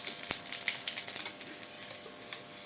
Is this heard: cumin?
yes